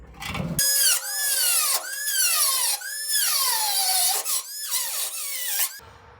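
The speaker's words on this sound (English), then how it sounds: "I still have about an inch to go on this cut, so I'm going to try to do it with a Dremel" Close, loud whine of a Dremel rotary tool cutting through the sheet-metal bed of a 1973-79 Ford F-100 pickup, in several sustained bursts whose pitch sags and recovers as the cut loads the tool, with brief pauses between passes.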